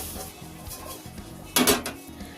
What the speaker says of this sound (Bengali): দেখুন বন্ধুরা ঢাকাটা খুলছি